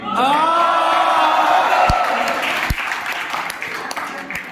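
A school audience applauds loudly after a chartered accountancy student's stand-up shayari performed in front of the principal. The clapping is dense and sustained, with cheers mixed in, and it fades slightly toward the end.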